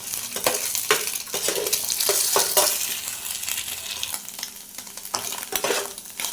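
Eggs for egg bhuna stir-fry in a pan with a close, crackling sizzle and repeated scraping strokes of a spatula, loud and busy with no talk.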